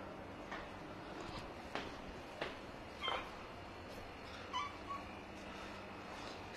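Cats in a house, about eighteen including kittens, give several short, faint meows spaced irregularly over a quiet room hum, with one slightly louder mew near the middle.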